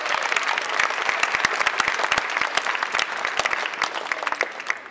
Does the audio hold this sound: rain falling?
no